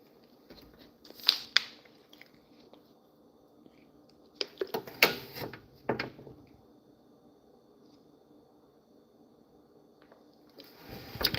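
Someone eats Lee's fried chicken, with close, crisp crunchy bites in a few bursts separated by quiet pauses.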